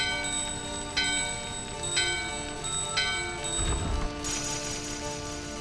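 In Final Fantasy IX, a bell rings out in regular strikes about once a second over a humming musical drone, with a brief low thud partway through.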